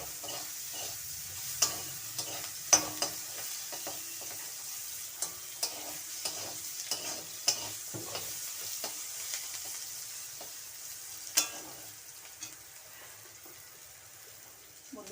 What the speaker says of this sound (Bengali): সামান্য হলুদ আর সামান্য লবণ দিয়ে বেগুনটা আমি ভেজে নেব।